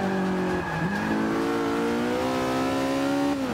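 Race car engine in Forza Motorsport 5 on the Spa circuit in Belgium, revving hard and loud with rising pitch, briefly dropping and climbing again through gear changes, with a faint tire squeal, no talking.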